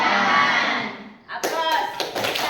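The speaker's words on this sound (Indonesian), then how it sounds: "Aplaus." Classroom applause fills the first second as a dense wash of clapping, then cuts off as voices and scattered taps take over.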